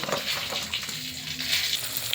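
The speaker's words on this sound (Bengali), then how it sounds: "এই পটলগুলো একটুখানি নুন হলুদ মাখিয়ে ভাজতে শুরু করি এবার সরষের তেল ঢেলে ভাজবো" Pointed gourd rubbed with salt and turmeric frying in mustard oil, a steady close sizzle with light crackles and occasional stirring, no talk.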